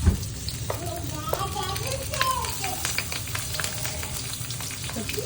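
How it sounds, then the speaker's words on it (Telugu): Cumin and mustard seeds sizzle and crackle in hot oil in a pan, with bright popping ticks over a steady frying hiss and a voice briefly heard in the background. "ఆయిల్ వేసుకొని కొంచెము జీలకర్ర, ఆవాలు వేసేసుకో."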